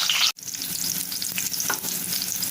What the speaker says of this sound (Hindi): ये प्याज डाल देंगे। इसको थोड़ा सा भूनेंगे।